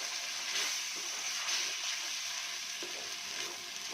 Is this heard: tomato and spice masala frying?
yes